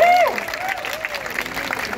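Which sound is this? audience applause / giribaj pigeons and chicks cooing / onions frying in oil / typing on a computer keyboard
audience applause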